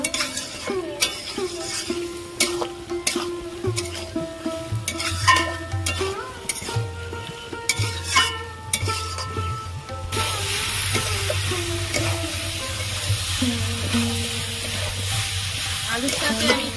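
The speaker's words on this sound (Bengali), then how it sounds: "আলুর সাথে আমি খাসির চর্বি দিয়ে ভালো করে কষিয়ে নিয়েছি" Potatoes fry with goat fat for ghugni, sizzling under repeated spoon scrapes and clinks against the pan; a low hum runs beneath and the frying turns to a denser, even hiss partway through.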